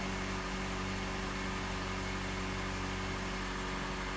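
A broken-down car's engine, with the clutch held and the gearbox put in reverse, gives a faint, steady idling hum that stays even throughout.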